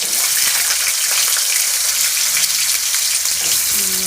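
Potatoes frying in hot ghee in a pan for an egg and potato curry, a loud, continuous, close sizzle and crackle, alone without talk.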